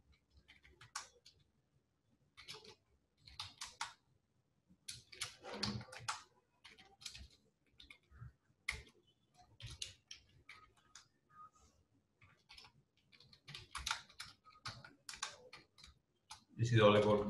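Someone types code comments on a computer keyboard during a Bootstrap CSS coding lesson, producing irregular bursts of quick clicky keystrokes separated by short pauses, fairly close and moderately quiet.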